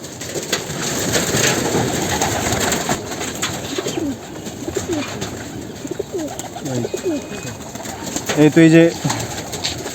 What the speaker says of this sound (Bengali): একটা নর কবুতর আমি আপনাদেরকে একটু দেখানোর চেষ্টা করি